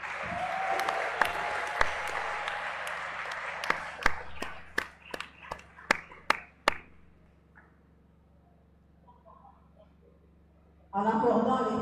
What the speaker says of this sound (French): nous allons applaudir encore.